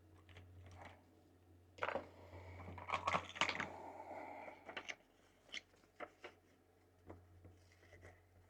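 Scissors snipping through painted paper for a collage, a few close crisp cuts and rustles in a quiet room, with a run of denser handling noise mid-clip and then separate sharp snips.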